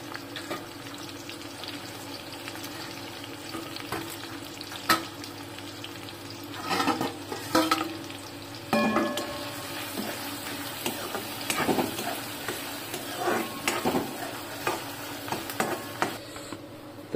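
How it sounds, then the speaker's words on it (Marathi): Curry leaves and chopped onion, with garlic, frying in a home kitchen pan while cooking a village-style crab curry; a steady low sizzle runs throughout, broken by irregular stirring scrapes and clatters of a utensil. "कढीपत्ता, चिरलेला कांदा टाकलाय."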